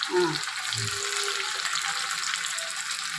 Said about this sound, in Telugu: తాలింపు వేసి పచ్చి ఉల్లిపాయ ముక్కలు